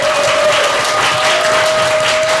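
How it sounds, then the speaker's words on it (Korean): Applause from the audience at a memorial ceremony, a steady, dense wash of clapping running the whole time with a faint sustained tone over it. "한번 우리 감사하다고 박수 좀 부탁드리겠습니다"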